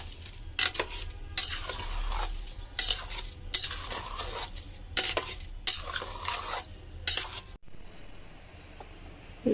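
Rice for khichuri is stirred and sautéed in a pan: rhythmic metal scraping strokes over a soft sizzle, close and repeated, before falling quiet near the end.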